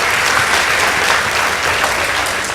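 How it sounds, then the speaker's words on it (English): Loud, sustained round of applause from a crowd at a school girls' team competition event, dense steady clapping throughout with no pauses. "Please give them a round of applause."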